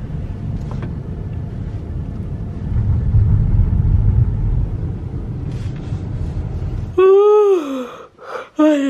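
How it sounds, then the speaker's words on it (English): A car drives at night past the illuminated Cardiff Castle, with a steady low road rumble for several seconds before it cuts out into a brief burst of tonal vocal-like sound. "We're driving past Cardiff Castle."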